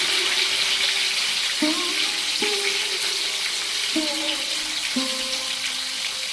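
Pomfret fish frying in a hot wok, a steady close sizzle with a few stirring or spatula sounds and occasional tonal clinks over it.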